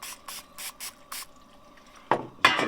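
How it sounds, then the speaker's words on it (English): Short hissing bursts of cooking spray from an aerosol can at a campsite, five quick puffs in a row, then a pause and two louder, closer sprays. "Do a little cooking spray on here."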